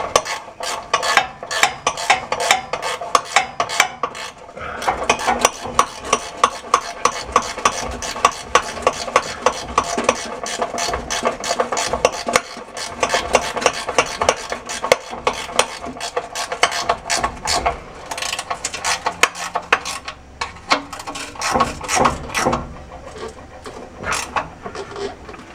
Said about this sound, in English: I'm just going to put all the bolts on.